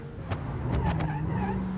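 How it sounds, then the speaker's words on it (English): Exhaust popping and banging from a nitrous-equipped car in BeamNG.Drive, a few sharp pops close together over a steady engine drone, with no talking. "I love the popping and banging out of the exhaust"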